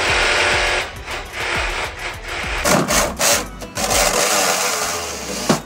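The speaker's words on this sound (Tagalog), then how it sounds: "chap-chapin na kagad yung mga sirang tubo gamit yung lagari kong automatic" An automatic power saw cuts through broken pipes aboard a ship, its rapid buzzing strokes close and loud, stopping and restarting in short bursts with grinding, rasping texture.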